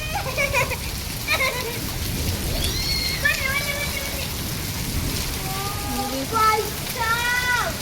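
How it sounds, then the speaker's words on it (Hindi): Dense, steady patter of hailstones striking surfaces in a storm, with voices talking intermittently over the continuous clatter. "कितने सारे ओले गिर रहे हैं"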